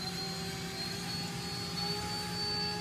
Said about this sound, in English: Bumping the spindle up.